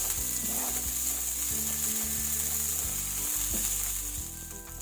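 Washed black and brown raisins, still wet, roasting lightly in a pan give a steady, close sizzle with occasional soft stirring scrapes throughout.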